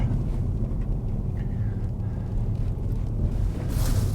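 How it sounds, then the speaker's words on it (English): A farm tractor's engine runs steadily while muck is worked on a midden pile, giving a continuous low rumble with some wind buffeting and no talk. "back on the tractor."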